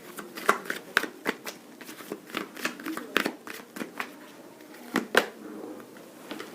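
Tarot cards being shuffled by hand, a run of crisp riffling flicks and slaps at an uneven pace, close and fairly quiet, with a voice talking over them.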